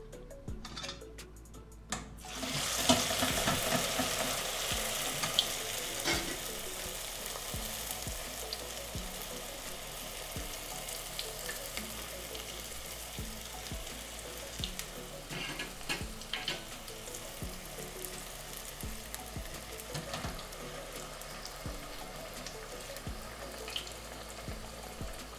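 Sanbusa wrappers made of teff and false banana flour fry in a pan, a steady close sizzle that flares up after they are laid down, with occasional scrapes and taps.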